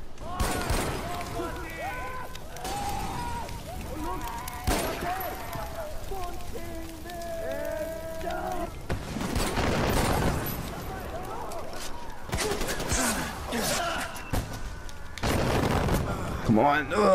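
Mortar and gunfire in Far Cry 4 during a school outpost takeover: scattered rifle shots and several heavy booming mortar impacts, some near and loud, mixed with game sounds and someone talking.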